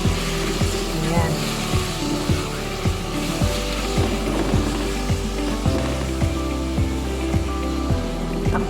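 Chicken breast frying in a pan, a steady sizzle over a repeating low mechanical thump, moderately loud throughout with no voice heard.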